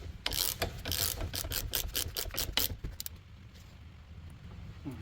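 A ratchet wrench tightens a nylon lock nut on the steering knuckle of a Nissan 200SX S12 during a control arm job, with a rapid run of close clicking pawl strokes that stops near the end, then quiet shop air.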